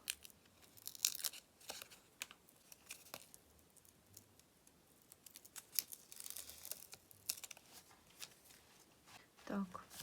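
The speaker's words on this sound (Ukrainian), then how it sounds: "Ось наш пакетик відклеюємо." Paper surprise packet being peeled and unstuck by hand, with crinkly tearing and rustling bursts spread across the stretch, close and fairly quiet, while a person talks.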